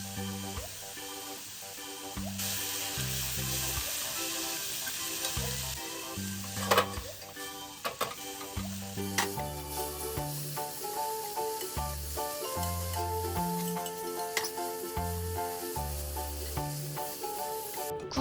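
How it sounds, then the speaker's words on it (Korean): Oysters hiss and sizzle steadily in a hot pan while being stir-fried over high heat, with occasional stirring clatter, beneath background music. "소금과 후추로 밑간을 하고 센 불에서 볶아주세요"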